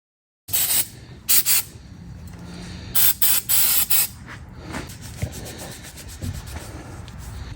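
Hissing spray bursts and steady scrubbing as the splines of a front hub bearing on a 2006-2012 Toyota RAV4 are cleaned, with several short loud sprays early on, then continuous rubbing.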